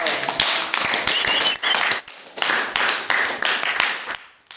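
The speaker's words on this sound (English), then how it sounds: "All righty, everybody give a round of applause." A classroom audience claps after a student's public speaking turn, a dense burst of applause with a brief dip partway through, then a second swell before it fades out.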